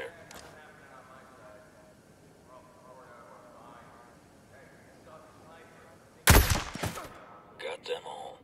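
A sharp, loud burst of gunfire erupts from a tactical shooter set on a snowy trail, followed by a few more scattered shots and echoes, after a stretch of quiet talk.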